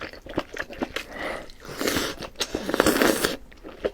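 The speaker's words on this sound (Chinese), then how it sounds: "真的想给你们来一口，又脆又弹又厚。" Close-up bites into crisp, springy, thick hotpot food, with repeated crunching and chewing noises in uneven bursts, loud and near, and no talking over them.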